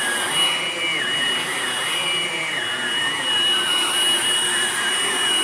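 A Hoover Blade Plus vacuum cleaner runs steadily on carpet, a loud, continuous motor whine with a high pitched tone and airy hiss, close and unbroken with no voices.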